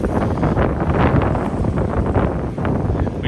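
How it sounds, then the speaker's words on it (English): Strong wind buffets the microphone on a riverside walk in London, a continuous loud rumbling roar with gusty swells and no pauses throughout. "You can see it's windy."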